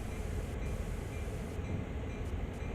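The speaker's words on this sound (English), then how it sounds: "the train's taking forever to stop because it's so heavy" A heavy, fully loaded trash freight train in Train Sim World slowly braking toward a stop: a steady low rumble of rolling wheels and rail noise with a faint brake hiss, continuous and unbroken throughout, with no voices.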